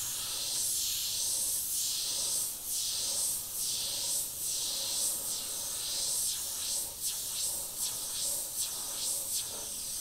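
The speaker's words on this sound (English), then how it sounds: "using the brush with that thicker paint and the dial completely wound out, I'm getting it to flow as a normal airbrush would." Compressed air hisses steadily from an airbrush fitted with a Mac valve while it sprays thick paint, a close, continuous broadband hiss with slight surges and dips throughout.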